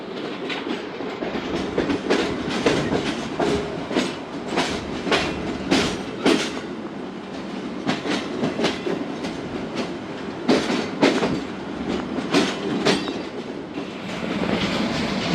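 A passenger express train rolls into a railway station platform at Multan, with a steady rumble and repeated clickety-clack of wheels over rail joints throughout, no voices.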